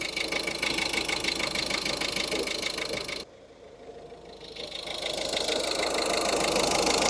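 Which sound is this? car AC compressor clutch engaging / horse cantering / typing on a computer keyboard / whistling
car AC compressor clutch engaging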